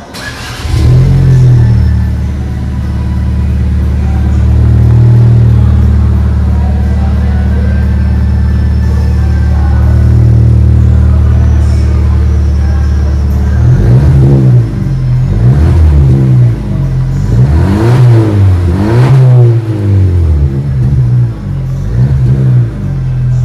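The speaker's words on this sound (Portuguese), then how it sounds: "Agora vamos dar uma acelerada aqui para vocês escutarem o ronco do Pulse Abarth." A 2023 Fiat Pulse Abarth engine idles with a deep, loud rumble, then gets blipped repeatedly in the second half, producing several sharp rising-and-falling revs up close with no talking.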